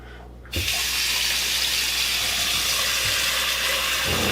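After a brief pause, a faucet opens and water pours steadily into a clogged RV sink and drain, close and constant.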